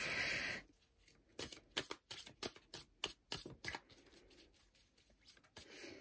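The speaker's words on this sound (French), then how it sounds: "je vais prendre quelques cartes de mon oracle personnel" A deck of oracle cards is shuffled and drawn by hand, with a burst of riffling followed by a quick series of crisp, close snaps and flicks.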